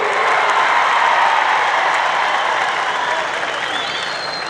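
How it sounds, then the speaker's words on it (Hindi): Loud, dense crowd applause at a Modi rally in Solapur, a continuous roar of clapping from a large audience that holds steady and eases slightly toward the end. "आपकी तालियों की आवाज से मुझे लग रहा है"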